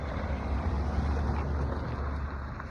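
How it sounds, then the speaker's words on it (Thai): Cool wind blows through a garden after rain, a steady broadband rush with low rumbling buffeting, continuous and fairly loud throughout with no talking. "รอเบิ่งโอ้บรรยากาศลมพัดเย็นๆค่อยๆเนาะ"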